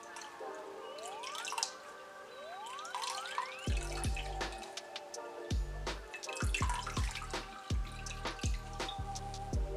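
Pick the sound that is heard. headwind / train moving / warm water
warm water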